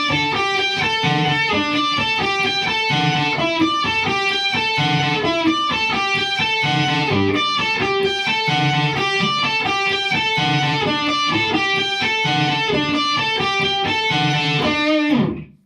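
Electric guitar on the bridge pickup plays a riff, a bright, busy repeating line of picked notes, loud and continuous, stopping abruptly at the end.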